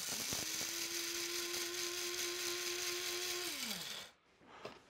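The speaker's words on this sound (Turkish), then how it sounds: "Kişnişi birazcık çekiyorum önden." An electric grinder whirs at a steady, loud pitch for about three and a half seconds while grinding coriander seeds for biltong, then spins down and stops, leaving near silence.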